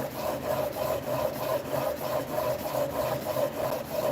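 A hand plane blade from a Buck Bros plane is pushed back and forth on a wet whetstone, giving a rhythmic gritty scraping of about a dozen steady close strokes with no talk.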